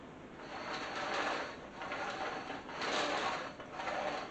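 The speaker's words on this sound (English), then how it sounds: "So we're gonna go ahead on and use Vevor Push Sweep Cleaner and go ahead and pick up everything." A Vevor push floor sweeper rolls across the floor picking up debris, with soft rolling, brushing swells that rise and fall in several passes.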